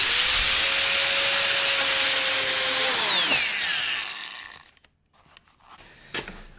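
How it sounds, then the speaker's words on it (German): An angle grinder whines loudly at high speed, then dips as the disc cuts into a sponge resting on tile, spins down and falls silent, with a brief clatter at the end. "macht die Flex an und fahrt einmal rein"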